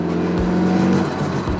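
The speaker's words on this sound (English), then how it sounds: "We're just getting the car warm, but listen to this." A rebuilt Mazda Miata engine warming up: a close, loud idle rises into a short rev and drops back, with a throaty burble under it, no talk.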